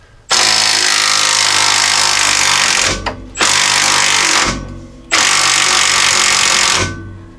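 Undoing a lower strut bolt on a 2016-2021 Jeep Grand Cherokee with a 21mm socket and 18mm wrench: three loud, sustained bursts of a power tool whirring, separated by brief pauses, close and harsh.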